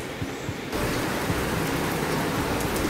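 Steady rain falls in a dense, hissing wash that starts abruptly and stays loud and even, close by and with no voices over it.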